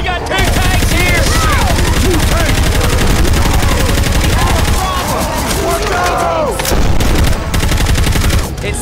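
Dense, continuous gunshots in Left 4 Dead 2, loud rapid automatic fire mixed with constant game chaos and shouting voices throughout.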